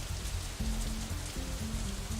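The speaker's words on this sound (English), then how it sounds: "it's still raining outside when we exit Shanghai, though it seems to be letting up a little" Steady rain hissing down outside in the visual novel Katawa Shoujo, a continuous even wash of drops heard alone while soft low background music tones play beneath it.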